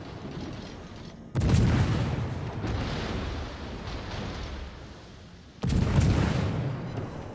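Heavy naval guns firing in a warship battle game, two big booming salvos a few seconds apart with rumbling blasts between, loud and close.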